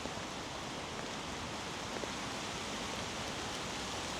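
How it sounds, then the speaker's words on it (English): Heavy rain shower pouring down outdoors in gusty wind, a steady, dense wash of hiss that holds at an even level throughout with no pauses or talk. "There's a big gust coming, really soaking rain out there, boys."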